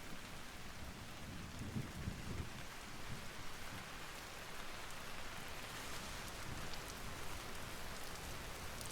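Steady, heavy rain pours continuously in the video game Mass Effect 3, a dense hiss of drops with low rumbling underneath, loud and unbroken throughout.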